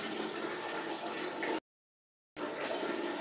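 Water splashes and pours steadily onto a piece of rug being washed in a bathroom, close and fairly faint, broken by a short gap of silence before the flow resumes.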